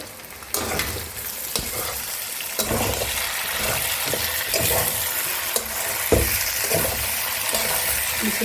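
Muri ghonto with katla fish head being stirred in a pan, with repeated scraping and stirring strokes over a steady frying sizzle, close and fairly loud with no talk.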